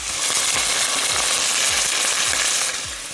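Pork chops sizzle loudly in a pan, a steady close crackle and hiss with faint periodic scraping beneath it.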